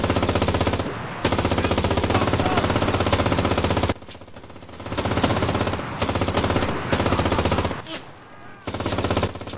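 MG 42 machine gun firing in the video game Enlisted, loud continuous bursts of rapid shots broken by short pauses, several sustained volleys in a row.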